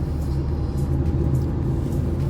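Road traffic rumbles through the Sadar Bazar market area on Old Railway Road in Gurgaon, giving a steady, dense low drone of engines with no pauses.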